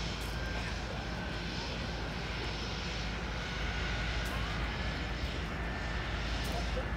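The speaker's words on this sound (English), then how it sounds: "And there's the plane we just saw land." A floatplane engine drones loudly and steadily after landing near the Harbour Air terminal on the waterfront, a continuous broadband roar with a faint tonal whine, heard alone.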